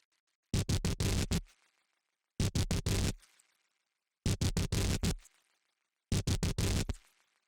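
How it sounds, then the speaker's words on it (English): Four loud bursts of harsh, grainy metallic synth, each a quick stuttering cluster of hits with a short decaying tail, separated by silence. "there is a very distorted sound"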